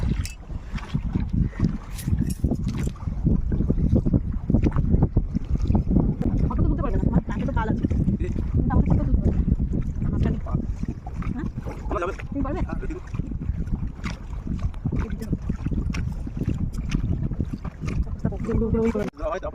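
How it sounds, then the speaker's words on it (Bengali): Breezy wind buffets a small boat out on a lake in Purulia, a steady low rumble of air and water under almost continuous conversation between several people aboard. "সুন্দর হাওয়া।"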